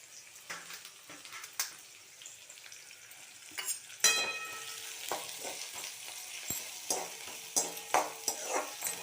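Onions, slit green chilies and curry leaves sautéing in a pan for tomato sevai, with crackling sizzle and repeated sharp scrapes and clinks of a spatula stirring, close and clear.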